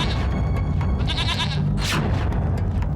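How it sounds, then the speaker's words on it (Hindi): A goat bleats in a few wavering calls over a steady, dense background, loud and close, with other noise and a brief bright burst partway through. "वो बकरी देख रहे हो तुम?"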